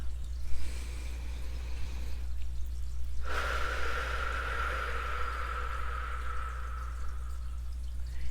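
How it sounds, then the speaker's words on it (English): Slow, deliberately exaggerated breathing: a soft airy exhale followed by a long, loud drawn-in breath, over a low steady hum. "I want you to hear the air coming out and hear the air going in"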